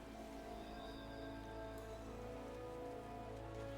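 Steady rain falls in a Final Fantasy XIV game world, a soft, even hiss with faint patter that continues unbroken for the whole stretch, quiet and without any voice.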